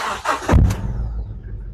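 An overhauled Toyota Innova Crysta BS6 diesel engine cranks briefly and catches, then settles into a loud, low, steady idle close by.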